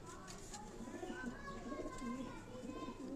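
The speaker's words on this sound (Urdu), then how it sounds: "یہ بھی سیالکوٹی بریڈ کے کبوتر ہیں" Sialkoti breed pigeons coo softly and repeatedly in low, rolling tones, with faint background chatter and other birds around.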